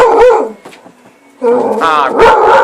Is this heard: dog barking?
yes